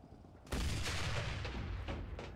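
Armor-piercing shells fired in a tank battle video game, a sudden loud blast followed by rumbling booms and further impacts, heavy and close.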